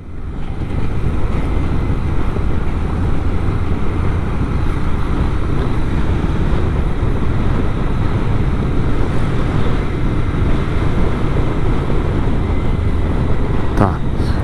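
A Royal Enfield Interceptor 650 motorcycle engine hums steadily while riding near Campinas, mostly buried under a constant rush of wind noise, with a brief sharp knock near the end.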